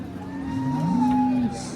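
A large cow, recently calved for the second time, moos once in a long drawn-out call at a Kopargaon cattle market, close and clear over faint background murmur.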